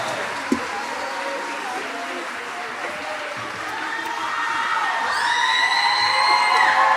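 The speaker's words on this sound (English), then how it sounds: "Let's give them one more round of applause, guys." A concert audience at a school mariachi spring concert cheers and applauds junior high mariachi students, the crowd noise swelling louder toward the end with whoops and shouts, while a voice speaks over it.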